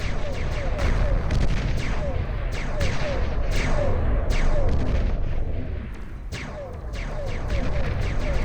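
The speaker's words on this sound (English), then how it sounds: "In just a couple of blasts, 3 halberds managed to take down that commander like it was nothing" Heavy blasts from halberd units in the strategy game Beyond All Reason fire repeatedly in an 8v8 deathmatch, a dense run of booming artillery-like shots and explosions, some close and sharp, others rolling, with commentary talk underneath.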